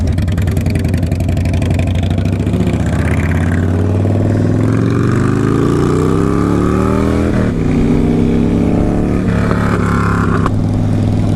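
A Honda CBR600RR motorcycle engine runs loud and close, holding a rough idle and then rising and falling through several revs. It continues without pause.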